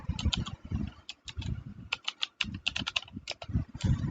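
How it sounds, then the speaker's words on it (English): Rapid clicking of keys on a computer keyboard, irregular bursts of close, crisp keystrokes with short pauses between. "So I'm not typing right, hang on."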